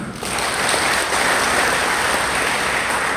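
Audience at an Indonesian religious and health lecture breaks into steady applause, a continuous wash of many hands clapping that holds evenly for several seconds with almost no talking.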